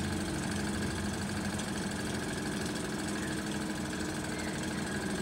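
A small Wilesco toy steam engine chugs steadily with a rapid, even rhythm and faint hissing vapor, running continuously at moderate volume without pause as it runs down on the last of its steam.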